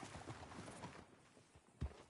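Hooves of a horse in the Red Dead Redemption 2 video game clop quietly at a walking pace, with a heavier thud near the end, faint and close.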